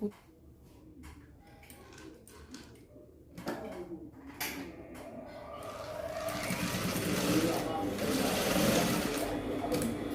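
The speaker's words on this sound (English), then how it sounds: "we'll take it to the sewing machine and then top stitch it this way" A sewing machine topsteps the piped waist of a fitted pencil skirt. Light clicks and handling noises come first, then the machine's motor whirs and builds into a steady, mid-level hum, with a voice faintly present.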